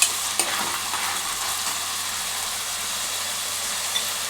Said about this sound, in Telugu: ఈ సాసులన్నీ ఒకసారి మంచిగా కలుపుకోవాలి